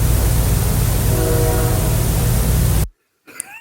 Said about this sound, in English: here's the last two train whistles that I got